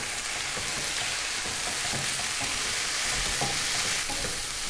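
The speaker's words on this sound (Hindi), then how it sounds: "चिली सॉस को हमने यहाँ पर 1 से 2 मिनट तक सौते कर लेना है।" Chicken and vegetables sizzle and fry in a pan with chili sauce, a steady close hiss under repeated scrapes and stirs of a utensil.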